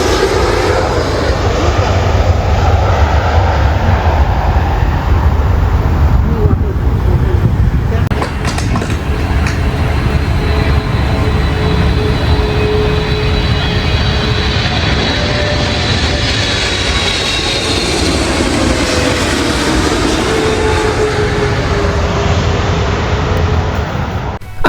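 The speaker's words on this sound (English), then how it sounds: "add aeroplanes landing only a few hundred feet away" Aeroplanes landing near LAX only a few hundred feet away, a loud, sustained jet roar that swells and fades across the whole stretch against background road traffic.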